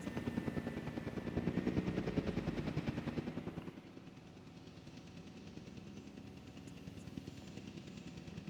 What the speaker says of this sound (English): Come on, helicopter.